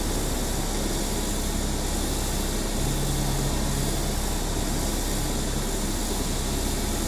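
Helicopter engine and rotor noise as a loud, continuous broadband roar heard close up, steady for several seconds with no speech over it.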